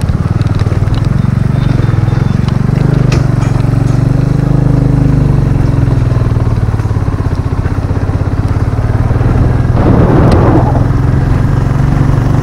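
A motorbike rides slowly along a muddy, rain-soaked road toward Yalbong near Kalimpong in North Bengal, its engine droning steadily and close throughout while a person talks over it.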